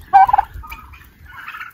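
A turkey gobbles loudly at a distance, a burst of rapid calls followed by quieter trailing calls, heard alone without talk.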